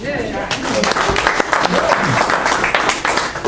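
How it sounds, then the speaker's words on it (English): An audience at a 2015 Rendezvous gathering claps in a moderate burst, with people talking over the applause throughout. "Let's clap for Carly"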